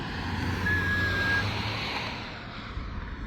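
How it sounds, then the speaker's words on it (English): A thin, steady whistle rises from an FJ during a breakdown after fuel pump work, sounding for under a second over a low, constant engine rumble with no talk. "Car's whistling."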